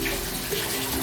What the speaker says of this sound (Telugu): కొంచెం నీళ్ళు పోసుకుందాం